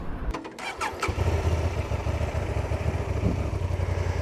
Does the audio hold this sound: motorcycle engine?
yes